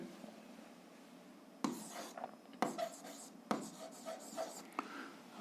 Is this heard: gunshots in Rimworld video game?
no